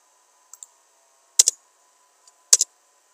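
A few short, crisp key clicks on a computer keyboard, in two quick pairs with brief gaps between them, close and fairly quiet against a near-silent background, with no voices.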